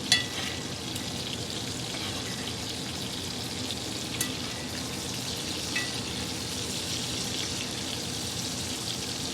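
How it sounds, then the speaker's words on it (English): Ribeye steak sizzles steadily in a hot cast iron pan, a dense, constant crackling hiss with faint pops, loud and close, with no talking. "You hear it sizzling, how good that sounds."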